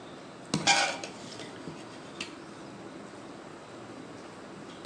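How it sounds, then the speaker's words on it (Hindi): A spoon mixes and serves mutton biryani from a metal pot: one sharp, ringing clang of metal on metal, then a few soft scrapes and taps against quieter background hiss. "अब हम अच्छी तरह से मिक्स कर लेंगे और इसे डिश आउट कर लेंगे।"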